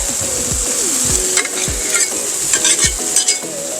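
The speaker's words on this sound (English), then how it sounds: "then you're going to be able to scrape it all down into here once you're all done" Metal scraper rasps repeatedly across a hot griddle after cooking bacon smash burgers, loud and close, with rhythmic scraping strokes over a continuous sizzle of frying.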